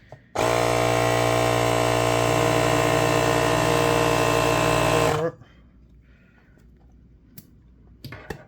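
A cordless tire inflator runs at a loud steady mechanical whir for about five seconds while pumping air into a tire, then cuts off, leaving quiet room noise and a few light knocks.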